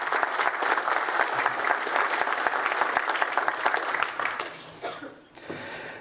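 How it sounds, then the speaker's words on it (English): A large keynote audience at a technical summit gives a sustained round of applause for the engineering department, dense and steady for about four seconds before thinning out and fading. "So I'd really like to give them a big round of applause quickly."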